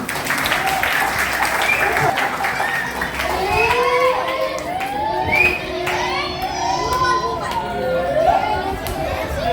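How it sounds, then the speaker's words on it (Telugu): Clapping from a group at a Brahma Kumaris children's summer camp, steady and moderately loud throughout, mixed with excited children's voices and chatter. "అట్లయినా క్లాప్స్ టు ఆల్ 6 people."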